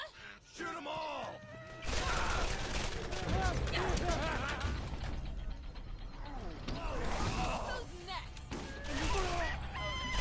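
Borderlands video game firefight: dense bursts of rapid gunfire and mechanical clatter, loud and continuous, with shouted voices and groans mixed in.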